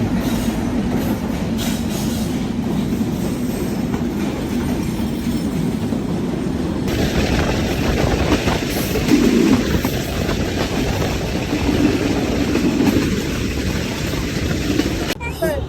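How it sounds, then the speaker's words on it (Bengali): A passenger train pulls into a railway station on a hot day: a steady, loud rumble of rolling carriages with rhythmic wheel clatter and faint squeals continuing throughout, close by, no talk. "চলে এসেছে আমাদের ট্রেন"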